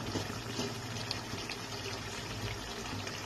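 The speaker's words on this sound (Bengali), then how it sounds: "এবার এটার মধ্যে আমি সামান্য ছোট বাটির 1 বাটি জল দিয়ে এটাকে ঢাকনা দিয়ে দেবো," A small bowl of water poured into a pan of chicken gizzards and liver, making a soft, steady splashing flow at low volume.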